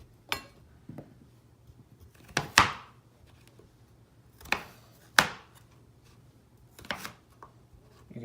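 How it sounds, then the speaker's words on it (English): A knife chops sweet potatoes into cubes on a board, giving sparse, crisp thunks, some single and some in quick pairs, close and fairly loud against a quiet background. "just cut them up where they're a little bit smaller and they cook evenly and pretty quick"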